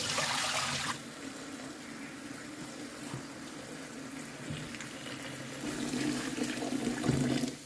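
Mushrooms being washed by hand in turmeric water in a kitchen, with steady splashing and sloshing of water close by, a louder burst at the start and more vigorous swishing near the end.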